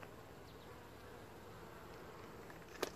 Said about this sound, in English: These bees going crazy.